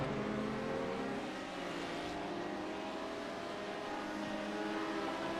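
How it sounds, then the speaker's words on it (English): Race car engines in a sim racing league event at Barcelona hold a steady, continuous droning roar with layered harmonic tones. The sound stays fairly loud and even throughout, with no voices. "You can hear the engines revving, so they're clearly just waiting."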